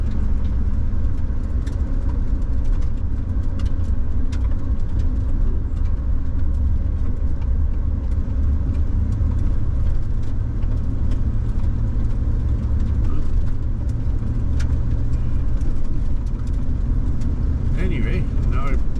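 A camper van's tires roll over a freshly sprayed road surface, making a continuous low roar and rumble heard from inside the vehicle, steady throughout.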